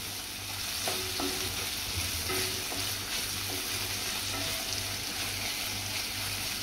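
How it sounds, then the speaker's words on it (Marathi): Egg bhurji sautéing in a pan gives a steady close frying sizzle, with a few light clinks and scrapes from the spoon. "थोडं परतून घ्यायचं आहे।"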